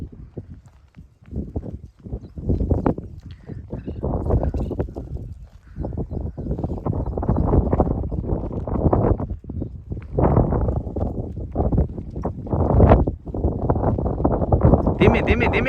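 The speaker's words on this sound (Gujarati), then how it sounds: "હવે ઘોડી લઈને આવે છે પાછળ આપણા જયમલભાઈ પણ આવે છે" A mare walks along a rural farm track, her hooves clip-clopping in a loose steady rhythm at close range, with people talking over and around the hoofbeats throughout.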